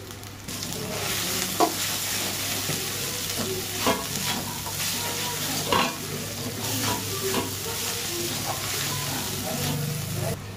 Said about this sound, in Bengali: আঁচটা মিডিয়ামে রেখে মশলাটা কষাতে হবে, বেশি জ্বলে গেলে ভালো লাগবে না মশলাটা।